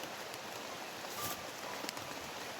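Rain falls steadily on a hot day outdoors near an overgrown area, a soft even patter with a few louder drips, moderately near and without talk.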